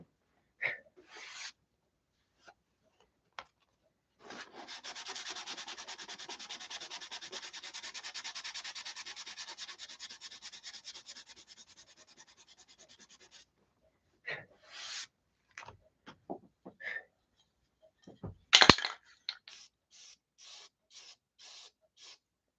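Hand sanding on a Tucker XL wing under repair: a steady, close scratchy rubbing that runs for roughly nine seconds, flanked by brief scrapes, taps and handling noises before and after.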